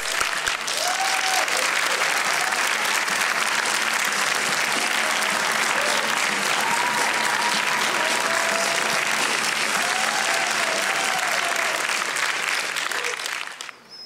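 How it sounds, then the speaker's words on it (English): Sustained loud applause from a large audience for the 2015 Hero Award winners at a Monte Carlo event, dense, continuous clapping that holds for the full span before dropping away at the very end. "Let's now have another huge round of applause for all of our 2015 Hero Awards."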